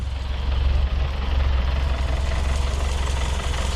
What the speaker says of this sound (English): I'm going to keep it on the choke as much as I can, but this car definitely needs a tune-up.